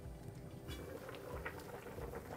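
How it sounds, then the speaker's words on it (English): Singapore hawker-style fish soup boils in a pot, a soft continuous bubbling and popping with scattered small bursts, fairly quiet and steady with no talking. "I've been boiling the soup for about 10 minutes now."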